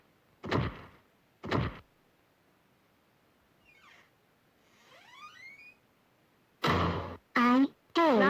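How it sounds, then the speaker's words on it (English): Two loud, sharp door slams in quick succession near the start, followed later by cartoon-style whooshing effects and a burst of loud voices. "Slamming the door"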